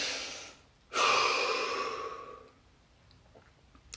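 One deep breath is drawn in close, a breathy rush that starts abruptly and slowly fades out over about a second and a half, with quiet before and after.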